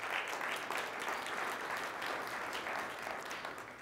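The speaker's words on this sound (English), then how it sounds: "let's give a round of applause to the entrepreneurs in the room" Applause from an audience of entrepreneurs at a Monsanto presentation, a steady, dense wash of clapping held at an even level for the whole stretch, fairly distant and quiet, with no talking.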